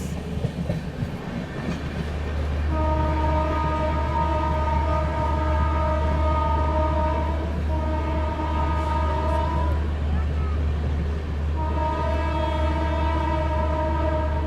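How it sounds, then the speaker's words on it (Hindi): The Andhra Pradesh Sampark Kranti Express is overtaken from aboard the Bhopal Shatabdi Express: a loud, steady rail rumble with long sustained tonal notes that rise, break off and return. "चलिए एक और ओवरटेक, आंध्र प्रदेश संपर्क क्रांति एक्सप्रेस।"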